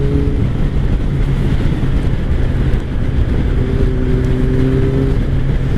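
A 2003 Kawasaki ZR7S motorcycle engine runs steadily under way with cold tires, a loud continuous drone with rising and falling rev tones and wind rush, no talking.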